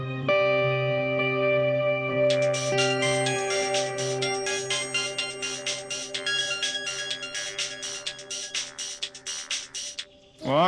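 A phone ringtone plays during an outgoing call, a sustained electronic melody that shifts into a rapid repeating trill of bright tones, loud and alone without any voices.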